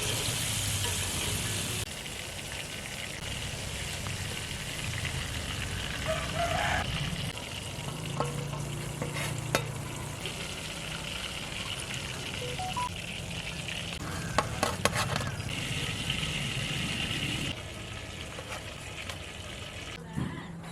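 Spiced KFC-style chicken drumsticks deep-fry in oil over medium heat, a continuous loud bubbling sizzle with occasional crackles and light clinks throughout.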